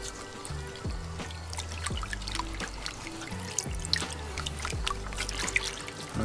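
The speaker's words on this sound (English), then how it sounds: "Let's get some water on it." Water poured over a freshly repotted bougainvillea in its pot, a steady trickling pour running close and continuous with small splashy drips, no talking.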